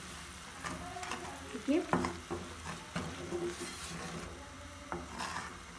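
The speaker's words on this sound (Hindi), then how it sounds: "और अब हम तमाम मसालों को भूनेंगे।" Spices including crushed cumin and nigella seeds roasting in a pan for chole, soft sizzling with scraping spoon strokes and a couple of louder clinks, and a brief word spoken.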